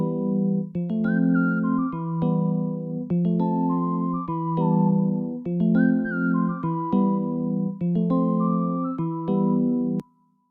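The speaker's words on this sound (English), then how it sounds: "Cheerful Melody plus the pianos together sounds like this." Retro synth patch called Cheerful Melody layered with pianos in an Afrobeat production, playing a bright, bouncy looping phrase of sustained chords and melody notes that repeats in steady two-bar cycles and cuts off cleanly at the end.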